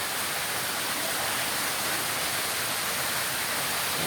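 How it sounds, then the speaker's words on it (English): A waterfall in the Fern Grotto, heard as a steady, broad rushing roar that stays even and fairly close from start to finish, with no talk over it. "Waterfall. You can hear the waterfall."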